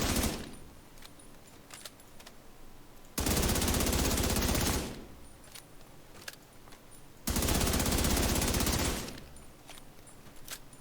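The Chatterbox submachine gun in the video game The Division 2: two long, rapid bursts of fully automatic fire, each about two seconds, loud and close, separated by quieter gaps with faint clicks and no speech.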